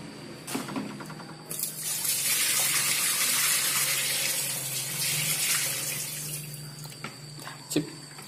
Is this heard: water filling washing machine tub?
yes